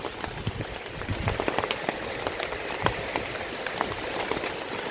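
Steady rain falls outdoors in a dense, even patter of drops striking surfaces, continuous and moderately loud throughout.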